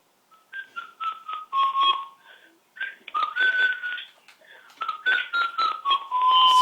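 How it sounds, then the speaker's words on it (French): A person whistles in short tonal bursts, a choppy, shrill sequence of notes with brief gaps, close and loud. "Siffle pas, s'il te plaît"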